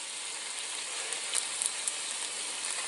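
Ribeye steak sizzles with butter in a hot cast iron skillet, a steady hissing fry with a few brief pops, close and alone with no talking.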